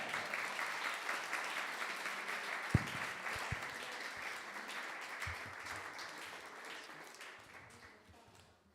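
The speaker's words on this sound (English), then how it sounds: "Let's have another huge round of applause for Prabhu for such a wonderful class." An audience applauds at the end of a spiritual lecture, with dense, sustained clapping from many hands that carries on for several seconds and gradually fades out.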